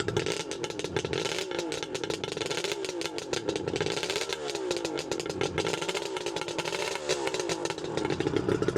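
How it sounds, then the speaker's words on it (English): A 1977 Suzuki GT380 motorcycle fitted with expansion chambers runs loud and close, its raspy, ringing two-stroke note rising and falling through a few gentle revs. "It sounds really good with those expansion chambers on, and the engine's super smooth as well."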